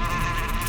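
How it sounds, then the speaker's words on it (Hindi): Bees at a beehive make a dense, continuous droning buzz. It is loud and steady throughout the brief moment and is heard alone. "और मधुमक्खी के छत्ते को छेड़ना"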